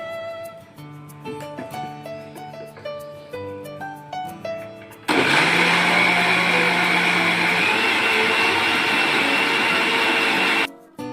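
A mixer whirs steadily at close range as it beats homemade cake batter made with butter and oil, running for about six seconds after a stretch of melodic music, then cutting off abruptly.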